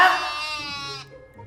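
A sheep bleats loudly and close by in one drawn-out, wavering call lasting about a second, then stops, leaving faint background murmur.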